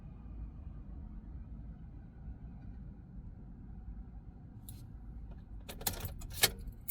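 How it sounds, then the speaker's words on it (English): A key jangles as it is pulled from the ignition of a 2013–2017 Nissan NV2500 van, a few close metallic clinks near the end over a low, quiet cabin rumble. "Now remove the key from the ignition."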